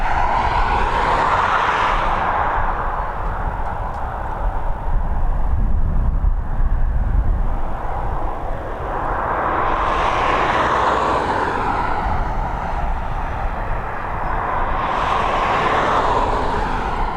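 An airliner departing Dublin Airport, a loud sustained jet roar that swells and recedes in broad waves, with a deep rumble building in the middle before the engine noise rises again.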